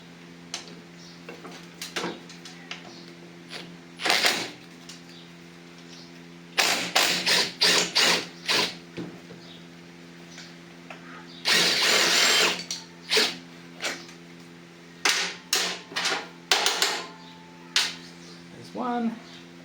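A power tool removes bolts from a Honda Gyro X scooter in short, loud bursts of whirring and ratcheting, separated by pauses, over a steady low hum.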